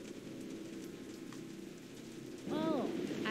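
Steady rain pours down in the Jurassic Park video game, a dense continuous hiss that swells slightly louder near the end, with a voice speaking briefly over it.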